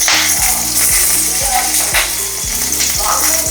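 Onion and garlic sautéing in sesame oil give a bright, continuous sizzle, with a regular clicking, ratchet-like pulse repeating underneath throughout.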